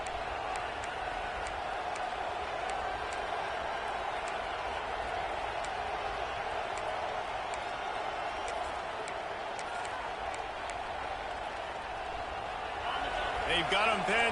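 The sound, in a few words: stadium crowd noise at a Kentucky football game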